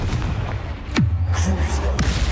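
Spell blasts and explosions erupt during Hogwarts Legacy combat, with sharp booming impacts at irregular intervals over a low rumbling bed, while a voice calls out spell names.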